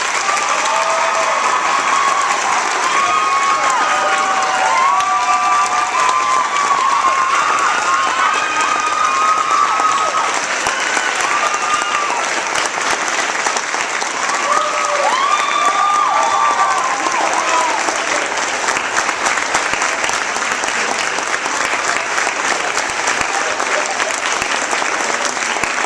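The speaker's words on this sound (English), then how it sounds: "let's give her another round of applause" A school auditorium audience claps in long, sustained applause for a retiring junior high choir teacher, dense and loud, with scattered cheers and children's voices rising over the steady clapping.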